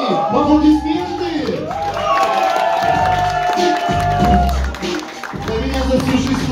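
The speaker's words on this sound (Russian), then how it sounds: "Аплодисменты!" Audience applause and cheering at a Bear City 15th-anniversary show, a loud crowd roar with clapping and whoops, rising and falling in waves over music-like tones.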